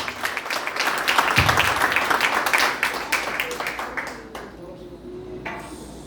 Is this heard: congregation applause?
yes